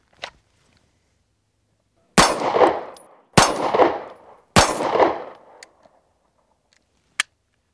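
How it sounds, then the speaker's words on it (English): Three loud, close gunshots fired in a Mozambique drill, two to the chest and one to the head, evenly spaced about a second apart with ringing decay after each, followed by faint clicks. "So I'm going to do two shots to the chest, a quick assessment, and then one shot to the head."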